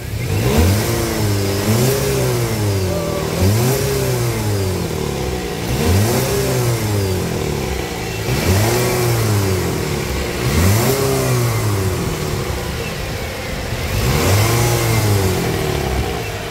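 A Toyota Etios car engine with about 100,000 km is revved repeatedly up and back down to idle in roughly seven even, rising-and-falling cycles, loud and close, with no talking.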